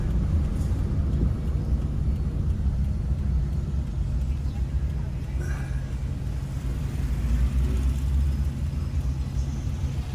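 A car drives along a seaside road in the Pajo area, with a steady, loud engine rumble and road noise running throughout and no pauses.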